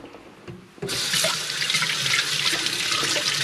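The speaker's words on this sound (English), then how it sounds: "Now I gotta wash my dang hands because I got egg yolk all over it." Hands being washed under a running kitchen tap after handling egg yolk: a sudden burst of water starts about a second in and then pours steadily, close and loud, with no talk.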